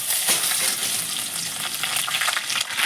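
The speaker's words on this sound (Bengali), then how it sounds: "আর আমি কড়াইয়ে তেল দিয়ে দিয়েছি, তেল গরম হয়ে গেছে। এবার আমি দিয়ে দেবো রসুন কুচি" Chopped garlic fries in hot oil in a kadai wok for chicken cutlets, giving a steady, close crackling sizzle with light stirring throughout and no talking.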